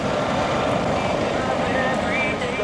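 A US Coast Guard HH-65 helicopter works a rescue demonstration at the Kaneohe Bay air show, its steady rotor and engine roar filling the air loudly and continuously while a voice speaks over it.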